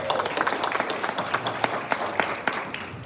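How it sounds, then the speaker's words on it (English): Chamber of commerce event audience applauds board members and ambassadors, a brief burst of lively clapping with distinct individual claps popping out of the crowd. "Give them a huge round of applause."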